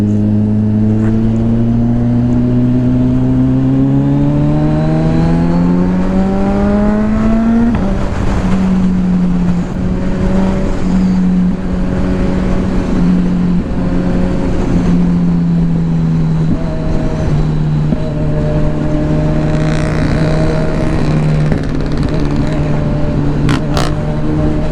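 A Kawasaki Ninja 1000 SX motorcycle accelerates hard, its engine note climbing steadily through a gear, dropping at a shift, then pulling and rising again, loud and close with no talking.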